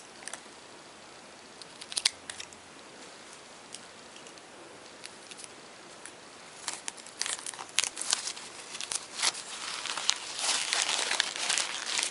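Scotch tape, tangled on itself, is handled while making a lichen and moss wreath, giving soft crinkling, rustling and sticky peeling sounds close by that grow busier and louder toward the end.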